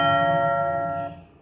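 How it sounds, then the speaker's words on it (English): A doorbell sound effect plays once, a bright two-note electronic chime that rings clearly and then decays quickly into quiet. "Your doorbell rang right now."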